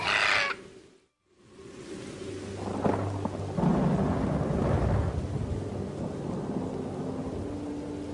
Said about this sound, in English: For the first time in a century, the rain is unrelenting.